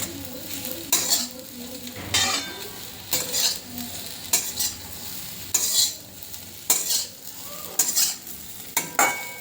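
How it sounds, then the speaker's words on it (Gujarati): Kathiyawadi rotlo fries in peanut oil in a pan, a soft ongoing sizzle broken by regular bursts of stirring and scraping from a utensil, about eight strokes, with no voices. "એના ઉપર તેલ બરાબર થોડું ચોંટી જાય ત્યાં સુધી થોડો ફ્રાય કરીશું"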